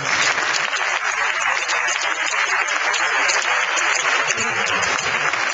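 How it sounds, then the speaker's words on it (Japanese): Audience applause closing a 2012 Okayama gubernatorial candidates' public debate, a continuous loud wash of clapping from a hall crowd without a break. "皆さん感謝の拍手をお願いしたいと思います"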